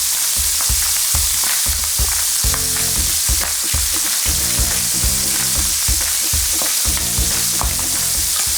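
Skin-side-down meat sears in a hot pan with a loud, continuous sizzle and crackle, and the pan is moved or scraped at intervals throughout.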